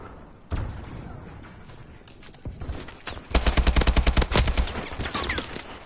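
Rapid bursts of gunfire from the Call of Duty Advanced Warfare game: a sharp shot early, then a dense run of loud automatic fire in the second half, with a few heavy thumps between.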